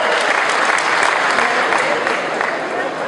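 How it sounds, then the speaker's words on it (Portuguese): Steady, dense applause from a lecture audience in Franca, continuous clapping filling the room for a few seconds without pause. "uma salva de palmas para as nossas companheiras dela"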